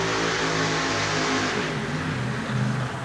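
Monster truck engine at a 1988 USHRA event in Anaheim, a loud, continuous roar that revs and eases off, heard from a distance across the arena amid crowd noise.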